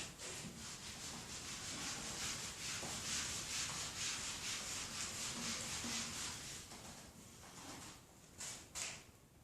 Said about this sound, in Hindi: इसको मैं रब आउट कर लेता हूं।